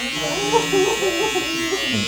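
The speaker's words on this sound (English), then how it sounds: "Let's go down to our trimmer. He's not keeping the beard, he's shaving the beard off." An electric hair trimmer buzzes steadily while shaving off a beard during a fade haircut, with someone talking over it throughout.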